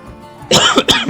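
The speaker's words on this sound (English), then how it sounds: "I can just not get rid of this cough." A person with a lingering cough lets out two sharp, close coughs in a row after a quiet moment, each one loud and abrupt.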